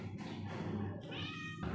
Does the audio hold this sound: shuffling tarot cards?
no